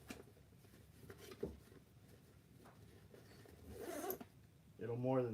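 A zipper runs on an equipment bag, a short rasping zip near the end after quiet handling noises, with faint background talk.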